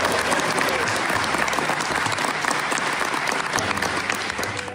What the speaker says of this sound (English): The reason why you saw everybody clapping there